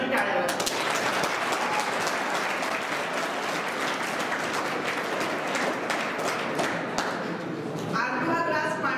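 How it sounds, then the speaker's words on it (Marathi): Polytechnic students at a stress management seminar applaud for the teacher in a dense, steady round of clapping that runs strongly for about nine seconds and fills the room. "सरांसाठी टाळ्या."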